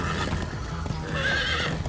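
A Minecraft Story Mode horse gives a loud, close neigh and whinny with rising and falling pitch, over faint hoof clip-clop and game background.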